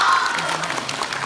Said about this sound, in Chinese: 你个臭捧哏的，鼓什么掌？